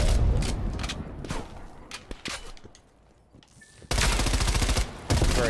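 Call of Duty Black Ops Cold War multiplayer match with loud bursts of automatic gunfire, a sustained volley at the start, a quieter stretch with scattered shots, then heavy rapid firing resuming near the end.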